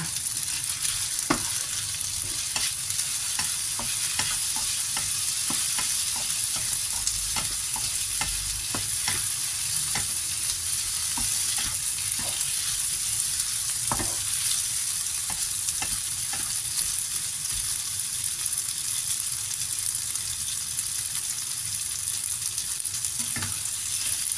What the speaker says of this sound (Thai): โอเคประมาณนี้แหละ ผัดเลยจ้า